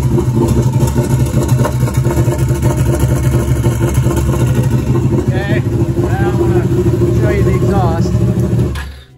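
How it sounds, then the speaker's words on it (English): A loud, rough straight-piped Can-Am Maverick 1000R UTV engine with no muffler runs continuously with a deep throbbing rumble, then cuts off abruptly near the end. "I'll start it up and you can hear what it sounds like straight piped"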